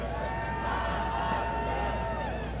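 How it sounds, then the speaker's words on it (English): Rugby crowd at Calgary Rugby Park during a Russia–Canada test match, a steady distant wash of chanting and crowd noise, even and sustained, under a faint tonal hum. "you can hear the chants of the crowd here in Calgary"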